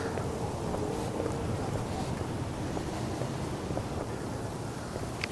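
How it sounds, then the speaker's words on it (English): Strong gusty outdoor wind roars and buffets, a loud rushing blast that swells and eases slightly, with no talking. "I don't know what the wind speed is, but it's got to be up there in these gusts."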